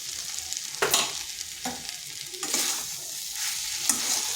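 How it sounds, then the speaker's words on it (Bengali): A spatula scrapes and stirs through potatoes and pointed gourd frying with garam masala in a pan, a steady close sizzle broken by several sharper scraping strokes. "এইভাবে 2 থেকে 3 মিনিট একটু নেড়ে নিচ্ছি।"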